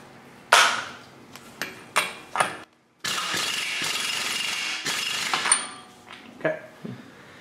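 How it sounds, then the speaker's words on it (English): Pneumatic air impact wrench run on a front-wheel-drive car's axle nut during clutch work, sharp loud hammering bursts then a long sustained rattling spin, followed by a few shorter clanks and quieter tool sounds nearby. "Once it's threaded, we can get our air gun."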